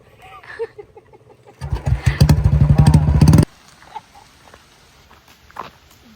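Motorcycle kick-started during heavy rain, its engine catching and running loudly with a steady pulsing rumble for about two seconds before cutting out, with quieter background sounds around it.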